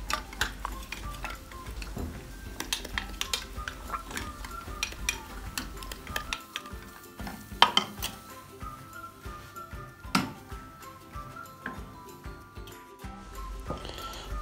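Irregular scraping and knocking of a wooden spoon working thick choux dough in a pot on the stove, with soft sizzling underneath and occasional louder taps.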